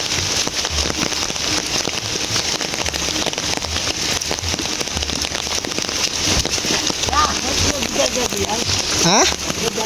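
Heavy rain pours without a break in Sukabumi, West Java, a dense, loud hiss of drops drumming on surfaces, with voices heard faintly now and then.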